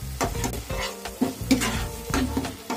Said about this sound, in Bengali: মশলাটা আমি আরো একটু কষিয়ে নেবো